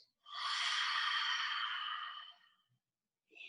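A long, steady exhaled breath in a chair yoga session, close and clearly audible for about two seconds, tapering off, followed by a brief soft sound near the end.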